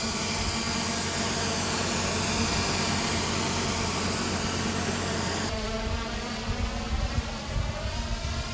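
Small drone in a swarm test at White Sands Missile Range, a loud steady insect-like buzzing whine of rotors taking off, close and continuous, shifting in tone partway through, with no talk.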